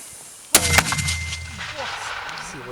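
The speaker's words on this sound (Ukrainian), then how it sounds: "Постріл!" A loud mortar shot during a Ukrainian military drill booms once with a sharp blast and echoing rumble, followed by faint background noise and distant voices.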